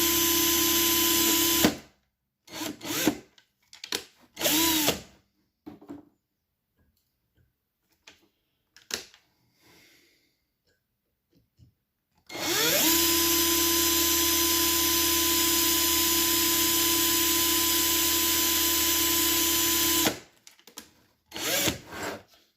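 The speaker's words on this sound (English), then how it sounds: "drill out the post." A power drill whines in a few short bursts while drilling out a stripped threaded post, then runs steadily for about eight seconds before stopping, loud and close, with brief clicks between runs.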